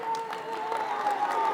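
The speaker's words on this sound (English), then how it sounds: "Give that gentleman a round of applause." Audience applause at an outdoor clean water celebration event, steady dense clapping from a crowd over the whole short stretch, fairly loud and continuous with no break.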